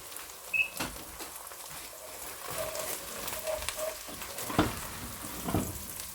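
Chopped celery sizzling in a hot pan for rice noodles, a steady close crackling fry with occasional stirring scrapes and soft pops.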